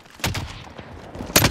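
Gunfire in the video game Call of Duty Warzone: a couple of sharp, punchy shots crack close by, separated by a quieter stretch with faint distant pops.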